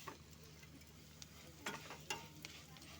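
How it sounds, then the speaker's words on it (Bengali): A soft, crackly sizzle of flattened rice (poha) frying in a little oil in a pan, quiet and close, with a few light scraping clicks from stirring. "দেখো চিড়েগুলো আস্তে আস্তে ভাজা হচ্ছে, 2-3 মিনিট ভাজবো।"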